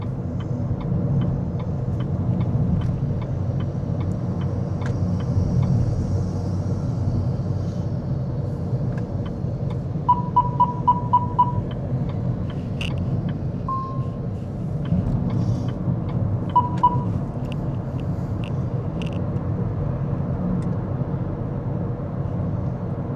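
Steady low road rumble inside a Proton S70 car driving through traffic, with a brief run of ticking indicator-like beeps partway through.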